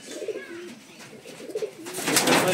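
A pair of Giribaz pigeons coo in low, soft repeated phrases, close by, with a brighter rustling burst near the end.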